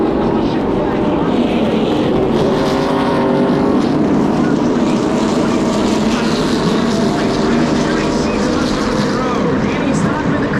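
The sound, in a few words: NASCAR race cars crossing the start-finish line at Daytona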